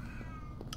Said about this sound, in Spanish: mi gato está malito, por eso maulla tanto